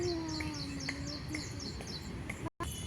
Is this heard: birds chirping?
yes